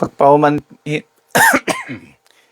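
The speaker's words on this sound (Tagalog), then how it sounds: "pagpaumanhin po ninyo dahil may ubo pa rin" A few harsh coughs and throat-clearing bursts from one person close by, separated by short pauses.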